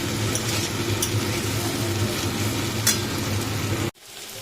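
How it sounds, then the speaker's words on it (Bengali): Fried potatoes and capsicum are stirred in a pan for a spiced potato dish, with a continuous sizzle and occasional scraping ticks of the spoon, until the sound cuts off abruptly near the end. "আলু ভাজাটা এর সাথে একটু নেড়ে চেড়ে নেব।"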